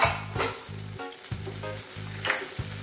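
Tomatoes softening in a hot pan give a loud, close sizzle, broken by quick rhythmic stirring strokes that scrape and pulse roughly every half second.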